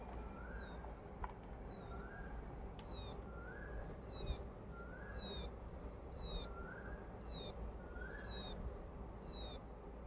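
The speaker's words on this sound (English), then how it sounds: "Are you able to hear the chirping?" Electronic bird chirp from a small circuit's speaker, a faint repeating pattern of short rising tweets at a steady rhythm, each paired with a higher chirp, set against a constant low hiss of background noise.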